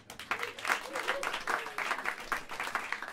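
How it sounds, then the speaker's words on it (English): Jazz club crowd at Smalls in New York City gives the drummer a short round of applause, small-room clapping in irregular bursts at moderate loudness with a voice speaking over it. "a warm round of applause for the great Charles Gould on the drums"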